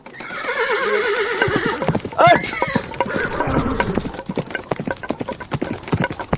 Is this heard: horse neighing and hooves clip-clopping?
yes